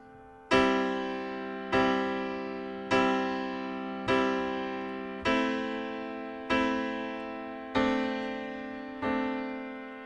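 A piano plays a three-chord progression with left-hand bass notes, eight clean, evenly spaced chord strikes that ring and decay between each, close and alone.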